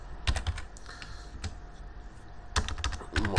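Computer keyboard typing, clusters of quick clicky keystrokes in two bursts with a quiet stretch between, close and fairly clear, no voices.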